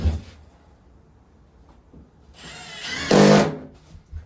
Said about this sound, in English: And a decent impact drill too.